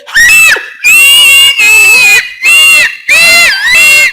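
A woman screams and wails loudly in repeated bursts, several long high-pitched cries separated by short gasping pauses, after pepper water is poured on her in a Nigerian movie scene.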